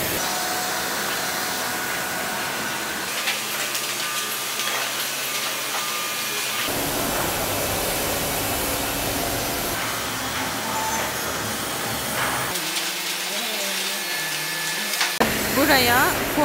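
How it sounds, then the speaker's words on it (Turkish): Log debarking machine in a wood processing plant stripping bark from logs, a steady loud mechanical roar and grinding with heavy low rumble that shifts in character partway through, continuous industrial noise throughout. "Bu makine üzerinin kabuğunu soyuyor."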